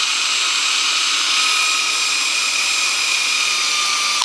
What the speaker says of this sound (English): I'm gonna spin it in the drill so you can see how